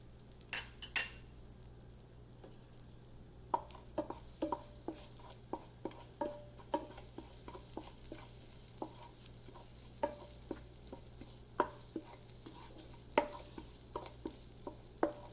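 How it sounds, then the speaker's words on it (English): Cumin seeds sizzle in hot oil for a restaurant-style cauliflower makhani masala, a soft steady frying hiss broken by frequent light clinks and stirring taps of a utensil in the pan, close and fairly quiet with no talking. "We are going to start with the jeera."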